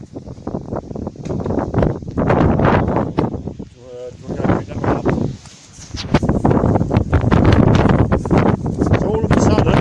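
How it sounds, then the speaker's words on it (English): Strong, heavy wind gusts buffet the microphone outdoors, with loud rushing and rustling that swells and drops, while people talk through it. "the wind has suddenly picked up really, really heavy."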